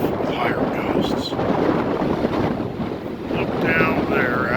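Strong wind gusts at Summer Lake, Oregon, buffet the microphone in a loud, continuous roar with rough low rumble; a voice can be heard faintly under it.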